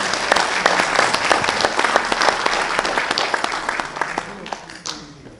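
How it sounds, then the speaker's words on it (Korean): Warm applause greets a political science lecturer introduced at a Korean women's world conference symposium: many hands clapping loudly and steadily, then thinning out and fading near the end. "여러분 환영의 박수 부탁드립니다."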